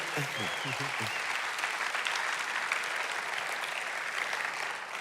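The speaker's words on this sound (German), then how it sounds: "let's give Joel einen Applaus" A church audience applauds a speaker, a broad, sustained roar of clapping that holds steady for the full five seconds, with a brief voice audible under the opening moments.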